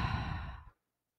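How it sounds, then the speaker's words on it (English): A single slow cleansing breath during a yoga class, drawn in and released as a soft, audible sigh near the microphone before it cuts to silence. "we'll just take a cleansing breath first. Inhale and exhale."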